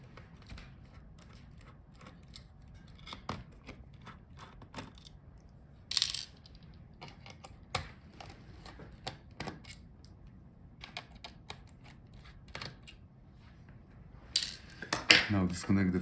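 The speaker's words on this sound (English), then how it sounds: "Unscrew the screws for the fan." Small screws being backed out of the cooling fan inside an Asus TUF FX505GT gaming laptop during a teardown, heard as faint scattered metallic clicks and light scraping taps, a few sharper knocks standing out against quiet room tone.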